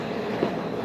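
Train at a Tokyo station in Japan, a steady rumbling rail noise with faint clacking, continuous and fairly loud, no talk.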